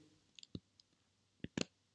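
A computer mouse clicks on a spreadsheet cell, giving about five soft, sharp clicks spread over two seconds, some coming in quick pairs, faint and close with no talking.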